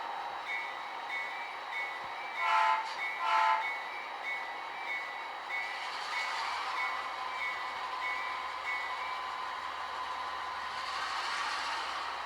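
A model railroad train rolls slowly into a siding, giving a faint, steady motor hum and light track rumble, with a couple of short high horn-like tones early on.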